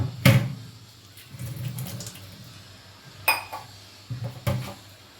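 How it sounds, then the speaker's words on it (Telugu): Hot water sprinkled onto a metal kitchen chimney filter plate makes a few short, close splashes and metallic clatters separated by quiet gaps. "అలానే హాట్ వాటర్ స్ప్రింకిల్ చేసేద్దాం."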